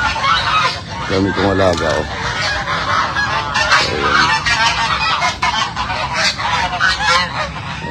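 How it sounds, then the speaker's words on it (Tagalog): A flock of imported geese on a farm honks loudly and continuously, the calls overlapping up close. Someone speaks briefly over the din. "Mga gansang imported. Ang daming gansa."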